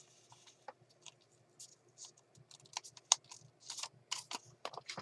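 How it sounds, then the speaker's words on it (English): Paper being cut lengthwise into two strips for a handmade accordion fold journal, heard as a quiet, uneven run of crisp snips and rustles with a low room hum underneath and no voices. "So I'm going to take this piece and cut it in half lengthwise."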